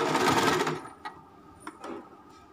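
An Usha embroidery sewing machine stitches on satin ribbon in a quick, dense whirring burst, then stops, followed by a few faint clicks and taps nearby.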